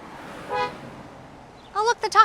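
A taco truck horn used as a film sound effect, honking in a quick cluster of three or four short toots near the end, loud and close after a faint earlier toot.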